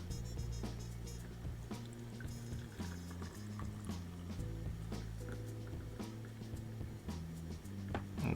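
Nut milk from a NUTR automatic nut milk maker drains slowly through a fine strainer, making faint liquid trickling and dripping over a low background hum.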